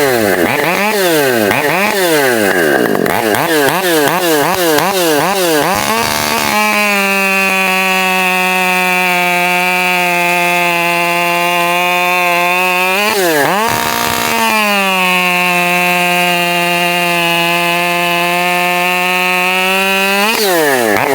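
Husqvarna 550 XP Mark II chainsaw with a stock cylinder head, ported muffler and M-Tronic, blipped in repeated revs and then held at a loud, sustained high-pitched scream, dipping briefly before racing again.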